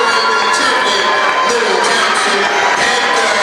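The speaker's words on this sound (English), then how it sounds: "there's even some Wildwood Catholic fans standing and cheering" Fans at a high school girls' basketball final roar and cheer in a dense, sustained crowd noise from a packed gym, loud throughout the short stretch.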